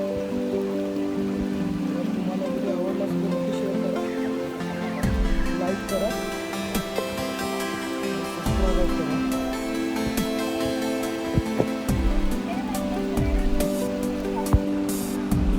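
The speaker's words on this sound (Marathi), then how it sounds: "खूप जोरात पाऊस आहे" Heavy May rain pours steadily throughout in a village, a constant dense hiss with occasional louder drips and splashes, while people talk over it.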